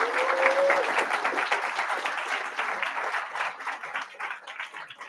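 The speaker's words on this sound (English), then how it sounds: "So I want you to give yourself a round of applause for making that investment in yourself." Applause from a seminar audience at a live leadership training, a dense wash of clapping that is loud at first and gradually thins and fades, with a brief tone near the start.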